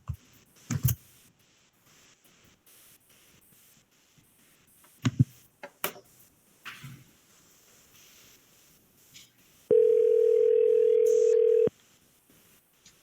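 A phone call placed from a public school board meeting line rings out as a steady electronic tone for about two seconds, preceded by scattered clicks and soft handling noises in an otherwise quiet room.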